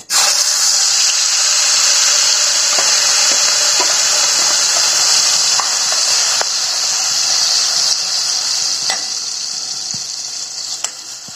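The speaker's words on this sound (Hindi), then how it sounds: "तेल हमारा गरम हो गया, हम चेक कर लेते हैं। इसमें अब हम जीरा डाल देंगे, अपना हल्दी डाल देंगे।" Cumin, turmeric and spices hit hot oil with a loud, steady hiss that holds close and strong, with small crackles and pops scattered through and a slight fade toward the end.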